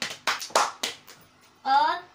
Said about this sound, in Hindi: ताली कौन बजाएगा, ताली आप लोग बजाइए।